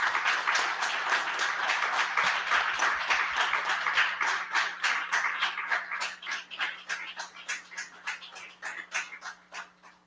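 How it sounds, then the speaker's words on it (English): Attendees at a Plone Foundation membership meeting applaud, first as a dense wash of clapping, then thinning into fewer, distinct rhythmic claps that fade out over about ten seconds. "So please, a round of applause for all of them."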